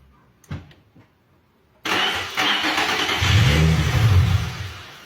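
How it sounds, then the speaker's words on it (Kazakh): An Infiniti G35 with an electrical fault cranks and catches, a few brief clicks and turns giving way to a sudden loud engine start that settles into a rough, rising rumble close by. "Так, машина от алып тұр"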